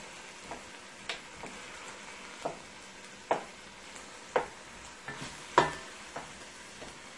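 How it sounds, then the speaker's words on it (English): Oxtail meat browns in a pot for a Jamaican oxtail stew, giving a steady low sizzle broken by repeated sharp scrapes and stirring clatters every second or so, close and fairly quiet with no talking. "Right now, my meat is browning up nicely here."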